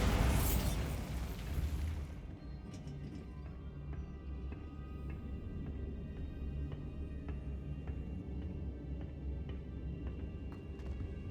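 Bombarda explosion spell in Hogwarts Legacy, a single loud burst at the start with a broad roaring blast that trails off over about two seconds, followed by low rumbling ambience and scattered faint clicks.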